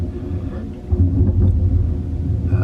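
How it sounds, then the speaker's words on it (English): Thunder rumbles during a storm at sea, heard from aboard the cruise ship Carnival Mardi Gras, a low, rolling rumble that swells after the first second and lingers without voices. "That would be thunder."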